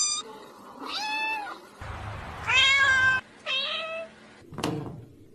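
A cat meows repeatedly, several drawn-out, loud harmonic cries with short pauses between them, ending with a sharp brief noise.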